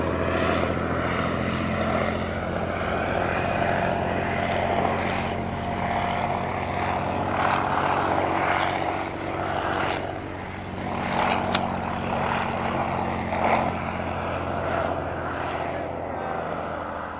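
A Sopwith Triplane drones steadily overhead at an airshow, a continuous propeller engine hum with slight rises and falls, heard alone without voices.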